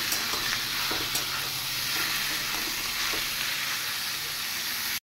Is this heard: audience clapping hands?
no